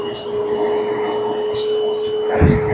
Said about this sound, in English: We're gonna turn it on, and I can just vacuum right off all this pet hair.